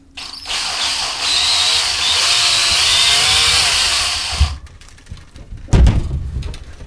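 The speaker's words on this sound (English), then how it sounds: "just start slowly, so you don't walk the drill across the surface." A loud, steady high-pitched whine of a power drill boring a hole for a motorcycle suppressor for about four seconds, stopping abruptly, followed by a couple of clunks.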